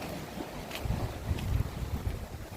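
Wind buffets the microphone at a seaside viewpoint in Khao Laem Ya national park, a low, gusty rumble rising and falling over faint surf, with no talking.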